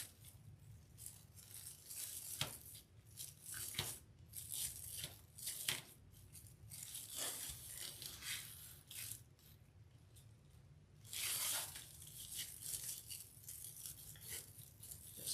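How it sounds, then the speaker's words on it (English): Firm decorative mesh is cut close to the mic for a summer lemon craft piece, producing irregular crisp snips and rustling crunches in bursts, with one longer rasping stretch near the end. "Then I'll cut the mesh."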